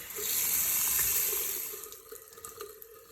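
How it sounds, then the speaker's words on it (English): Water rushes steadily from household plumbing as the supply is shut off and pressure drained ahead of replacing a Rheem RHS42 water softener, loud and continuous at first, then thinning to a softer trickle with small splashes. "that involves turning the water supply off first. And draining the water pressure."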